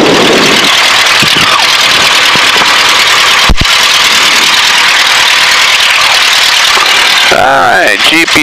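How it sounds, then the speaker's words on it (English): A Luscombe light airplane's piston engine runs steadily after start, a loud continuous drone close by in the cockpit, with a brief sharp knock partway through and some shifting tone near the end. "engine's up and running"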